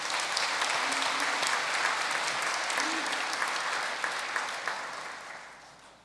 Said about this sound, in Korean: 우리 먼저 천지인 참부모님, 참어머님의 그 승리를 기원하는 성원의 박수를 먼저 보내드리겠습니다.